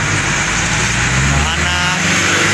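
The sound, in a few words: road traffic, buses passing on the street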